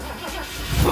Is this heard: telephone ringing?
no